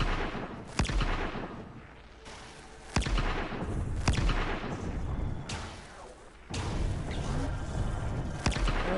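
Weapon fire and explosions from the Warframe video game: several sharp, loud blasts land every couple of seconds, each followed by rumbling booms and debris-like noise, with a voice talking faintly underneath.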